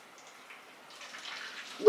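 Hot soapy water, dish soap mixed with boiling water from a jug, being poured slowly into the bottom of a home oven, a soft trickling splash that builds gradually and ends with a brief louder clunk.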